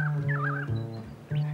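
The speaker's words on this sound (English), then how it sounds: "Cape Barron's famous for its wildfowl, the big Cape Barron geese." Cape Barren geese on Cape Barren Island in Bass Strait, Australia, give deep, loud, throaty honking and grunting calls close by, sustained with wavering overtones.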